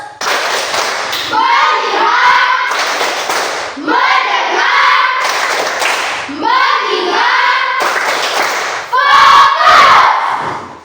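A group in a classroom plays the 'tepuk fokus' clapping ice-breaker, with chanted voices and bursts of rhythmic clapping repeating in loud cycles.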